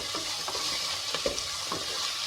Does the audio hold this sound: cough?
no